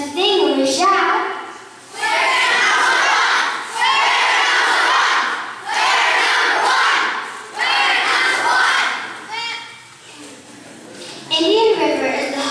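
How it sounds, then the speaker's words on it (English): An audience at a school history play about Michigan chants and shouts in cheer, several loud bursts of crowd voices separated by brief pauses, with children's voices prominent. "why don't you join in with us as we sing and we shout?"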